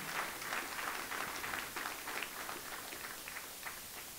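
Church congregation applauding at a prophetic gathering with an apostle in Dubai, a steady wash of many hands clapping at moderate distance, fairly even and continuous throughout.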